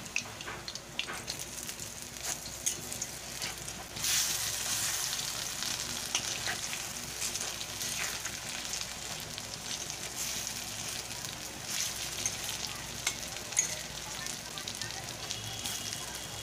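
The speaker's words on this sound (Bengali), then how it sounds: "বড়াগুলোকে আমি উল্টে দেব।" Papaya fritters fry in hot oil in a kadai, giving a steady close sizzle with occasional clicks and scrapes as they are turned, and the sizzle swells partway through.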